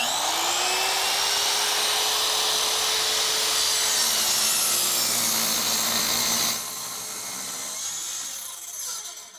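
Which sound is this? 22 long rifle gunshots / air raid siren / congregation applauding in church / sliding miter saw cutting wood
sliding miter saw cutting wood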